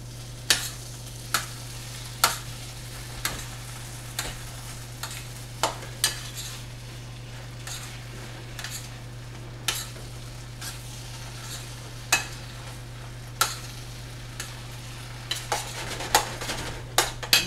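Rice fries in a hot pan on a burner turned up to max, with a low steady sizzle and a constant hum beneath. A spoon or spatula scrapes and taps the pan in regular sharp strokes about every second.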